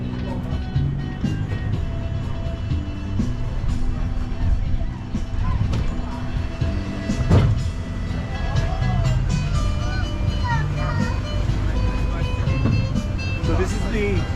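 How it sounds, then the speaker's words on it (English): A tourist road train in Malta's Three Cities rumbles steadily along, its motor a constant low drone with occasional rattles and bumps, while people talk over the ride. "So this is the happy train around the 3 cities"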